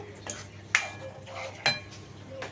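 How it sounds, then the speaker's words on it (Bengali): Spoon stirring lote fish in a pan just off the gas, with lemon leaves laid ready nearby, giving a few scraping clinks against the metal over a low background hum. "একটু নাড়া দেবো।"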